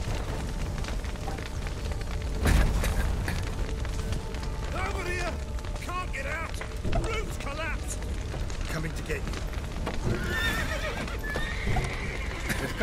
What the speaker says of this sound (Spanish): Escapen los caballos.